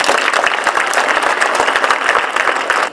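An audience at a school event breaks into loud, dense applause for the teachers, many hands clapping at close range in a sustained, even burst with no pause.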